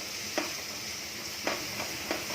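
Chopped garlic sizzles steadily in hot oil, a continuous close frying hiss with a few soft stirring clunks now and then.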